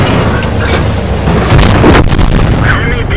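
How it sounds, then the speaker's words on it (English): Hellcat tank destroyer's gun firing in World of Tanks, a loud booming shot with a heavy blast around midway, set against continuous battle rumble. "Oh, I got the shot off."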